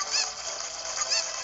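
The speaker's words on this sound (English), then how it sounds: "This has to be the dumbest chicken ever." A cucco chicken in Zelda: Ocarina of Time squawks twice in quick, loud, nasal, honking bursts, alone with no talk.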